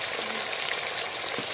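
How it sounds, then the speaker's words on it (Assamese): Fish heads fry in a pan for an Assamese fish curry, giving a steady close sizzle and crackle throughout with a faint stir near the end. "মাথাকেইটা ভাজি দিওঁ আগতে"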